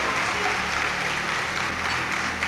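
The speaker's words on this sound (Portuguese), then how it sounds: "Vamos aplaudir o Senhor por isso?" Church congregation applauding, a dense continuous clapping that stays loud and even throughout, with faint voices mixed underneath.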